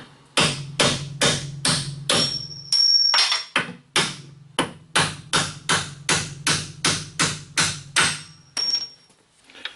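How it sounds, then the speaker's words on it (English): Metal hammer blows ring out in a fast, steady series of loud strikes, close up, driving out a CV axle part on a 2001 Buick Century, with a brief pause midway before the pounding resumes. "I'm just going to drive them out with a hammer"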